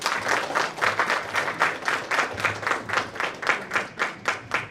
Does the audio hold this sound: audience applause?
yes